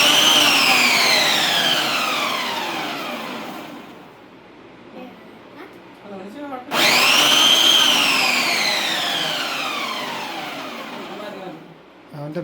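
Two loud pulses of a kitchen mixer grinder crushing a handful of roasted peanuts, each burst spinning up sharply and then winding down, with a short quiet gap between them and no talking.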